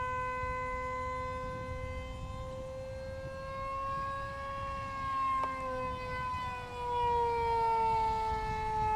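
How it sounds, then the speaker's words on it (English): A Falcon model aircraft flies at full throttle, giving a steady high-pitched motor whine that rises and falls slightly as it passes. It is continuous and fairly loud over a low rumble of wind, with no talking. "Back to full throttle again. Yeah, it's flying faster."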